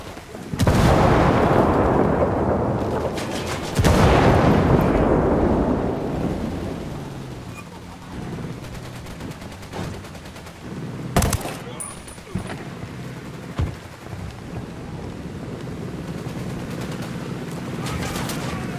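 Gunfire roars in Ghost Recon Wildlands: loud, dense rapid volleys and booming bursts open the scene, then give way to scattered single shots and echoing cracks that fade into the distance.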